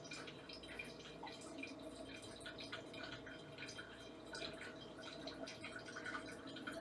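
A coffee maker brewing 2.5 cups into its pot, giving a soft steady patter of dripping and trickling liquid with faint gurgles, continuous and fairly quiet, with no voices.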